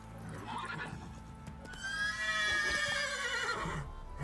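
Roach, the horse in the video game Witcher 3, gives a loud, close, quavering whinny over rapid hoofbeats, with no voices.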